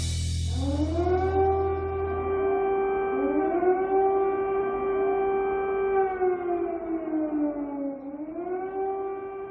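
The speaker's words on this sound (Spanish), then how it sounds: "Lo que están escuchando es el sonido de las sirenas que anuncian los bombardeos." Air raid sirens in Ukraine warning of bombings, a loud wailing civil defense tone that rises, holds and slowly sweeps down and back up, with overlapping siren voices echoing across a wide outdoor space.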